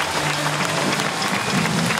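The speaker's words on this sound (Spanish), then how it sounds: "aplauso fuerte" Loud audience applause at a seminar in Morelia, a dense, steady wash of clapping from a crowd with no gaps.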